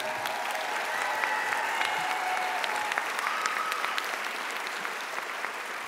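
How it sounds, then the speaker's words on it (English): Sustained audience applause with scattered cheers and whistles honoring student nominees at a university staff recognition awards ceremony, steady and full throughout. "How about a cheer for all our student nominees?"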